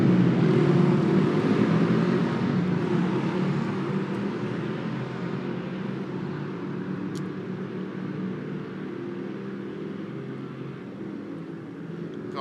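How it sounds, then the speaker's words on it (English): A motorcycle passes near a lakeside cove, a continuous engine drone that is loudest at the start and slowly fades while staying present throughout, with no talk over it. "There's a motorcycle about to go by, so I apologize for the noise."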